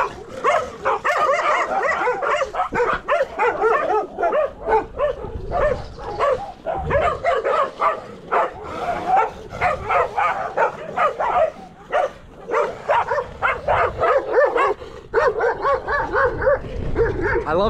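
Several dogs bark and yip excitedly near a paved road around the ancient city of Nicaea, with rapid overlapping barks and whimpers, loud and close, running continuously with only brief gaps.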